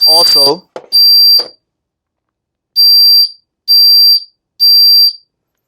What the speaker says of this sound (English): It has 3 constant beeps, the pause, 3 constant beeps, the pause. So that signifies a smoke detector.